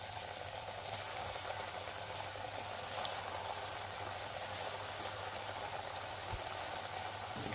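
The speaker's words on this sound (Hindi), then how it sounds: "ऑयल गर्म हो गया है, अभी इसे मीडियम टू लो गैस पे इसे फ्राई करेंगे।" Chicken donuts fry in hot oil over medium-low gas, making a continuous, even sizzle that holds steady throughout with no voices.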